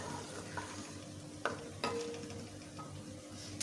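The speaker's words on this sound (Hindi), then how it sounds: "अब जैसे ही हमारा घी थोड़ा गर्म हुआ, इसमें हमने एक मीडियम साइज़ का अनियन डाल दिया है।" Soft, steady sizzling of a medium onion frying in hot ghee in a kadai, with a few clinks and scrapes of stirring, fairly quiet and close.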